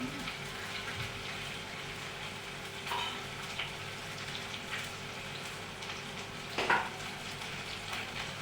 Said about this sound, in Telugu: నేనైతే క్యాప్సికమ్ ఆలుగడ్డ వండుతున్నా.